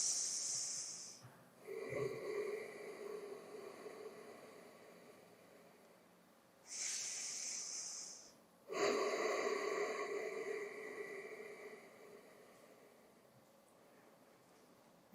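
Slow, deep breathing during a gentle yoga session, long airy inhales and exhales in three drawn-out waves, close and quiet, with a hushed rasp like soft snoring.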